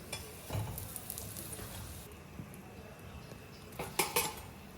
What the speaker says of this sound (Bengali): কোড়া করে ভালো করে ভাজতে হবে এইরকমভাবে